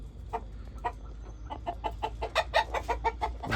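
Country chickens and roosters on a free-range breeding farm, clucking in a steady series of short calls that grow busier and louder, near and overlapping, with no talk.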